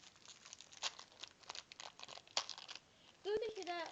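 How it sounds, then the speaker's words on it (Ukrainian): The wrapper of a pack of mini Oreo cookies crinkles and crackles up close as it is opened, in irregular bursts, followed by a short vocal sound at the end. "маленьке печиво орео. Давайте його відкриємо і попробуємо."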